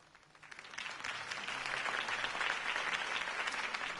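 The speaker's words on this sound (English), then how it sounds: "If only Mr. Wayne, my campaign's largest backer, could have heard that applause" Crowd applause in the Telltale game Batman episode one, steady dense clapping that swells in after a quiet start and holds loud and broad, with no voices over it.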